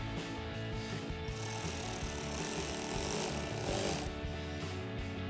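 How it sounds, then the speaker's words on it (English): An 8mm socket on a ratchet tightens the air intake clamp of a 2024 Mustang GT, giving a dense, rapid run of close metallic clicks for a few seconds between brief quieter pauses. "then we'll switch to our 8mm socket to tighten down our clamp"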